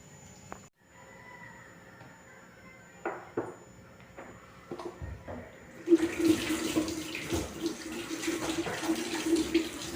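A tap at a sink in an operating-room scrub area opens after a few faint clicks and knocks, then water runs steadily and splashes as hands are washed, close and fairly loud.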